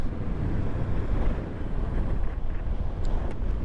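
Strong wind buffets the microphone in a loud, constant low roar with gusty surges, and no one speaks.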